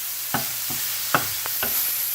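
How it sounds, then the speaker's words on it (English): Sausage grease sizzles in a frying pan while white sausage gravy is being made, a soft steady crackle with a few sharper pops scattered across the short stretch. "you see the grease that's sizzling around in there?"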